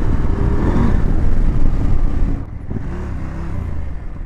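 KTM 890 Adventure R motorcycle on the move, its engine a loud, steady drone with road and wind noise that eases slightly partway through.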